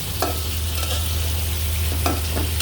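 Cut pieces of stinging catfish fry in a pan, a steady close sizzle broken by a few quick scraping stir strokes.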